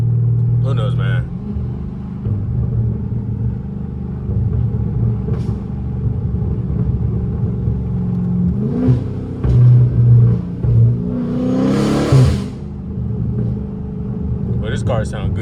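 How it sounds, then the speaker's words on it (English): Steady, loud car engine rumble from inside a moving car, with low droning tones that swell briefly as the engine revs, under occasional voices. "But this car sounds good as hell though."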